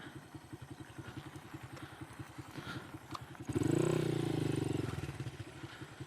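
A motorcycle engine catches and starts around midway, its loud rumble swelling up over a low, steady pulsing idle-like drone heard beforehand, then holding at a sustained roar close by.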